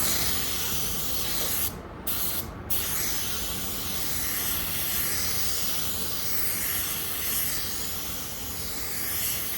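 Spray gun laying a clear coat onto a car body panel, a steady loud hiss of atomized spray running continuously with two brief pauses near the start, no talking.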